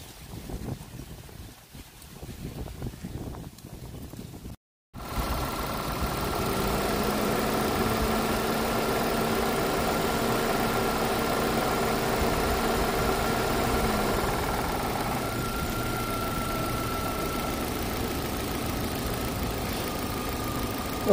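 After some rustling and a short gap, an engine starts and idles steadily, a low continuous hum that stays even and close.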